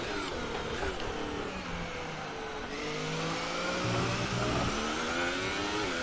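An F1 car's engine in the video game F1 2018, driven with a steering wheel in manual, revs steadily and rises and falls in pitch as the gears change, loud and continuous with no talking.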